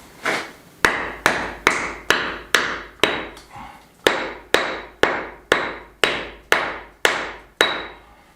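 Hammer blows ring against a stone wall during an old Spanish farmhouse restoration: about fifteen sharp, evenly paced strikes, close and loud, each followed by a short decay, with no talking.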